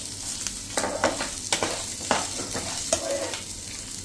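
Onions, ginger, garlic and spices sautéing in a pan for sambhar, giving a steady close sizzle broken by the scrape and clack of stirring, with no talk.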